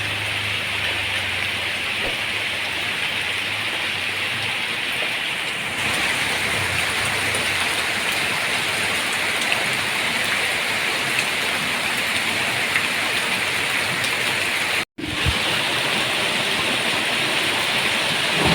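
Steady light rain patters continuously on surfaces nearby, a dense even hiss with no voices.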